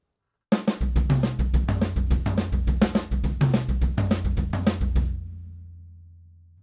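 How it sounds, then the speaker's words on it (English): A drum fill played with the right hand moving around the toms while the left hand stays on the snare, a fast steady run of strikes for about four and a half seconds before the last note rings out. "just move your right hand around the drums and keep your left hand parked on the snare drum."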